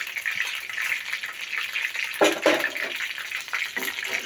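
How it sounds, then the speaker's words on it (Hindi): Eggs fry in a wok, a close, continuous hiss and sizzle with a few louder crackling surges, alone without talk. "अंडे डालेंगे और इसे 2 मिनट तक पकने देंगे बगैर हिलाए"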